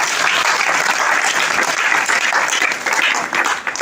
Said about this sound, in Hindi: अपने सांसद जी के लिए जोरदार तालियां बजाइए